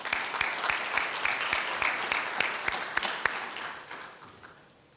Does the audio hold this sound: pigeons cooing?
no